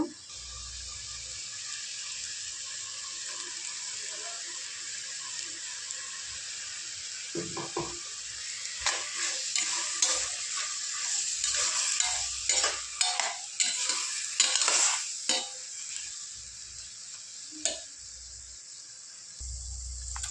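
Tomatoes and ground chili masala are stirred in a hot pan, a steady sizzle broken by scraping and clattering spoon strokes in the middle stretch.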